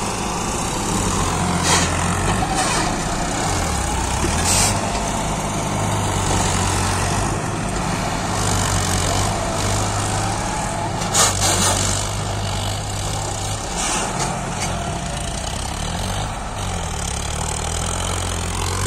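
Two new tractors, a Powertrac Euro 50 Plus and a John Deere 5210, idle side by side outdoors, a steady low diesel rumble with throbbing, occasional revving swells and a few sharp clicks.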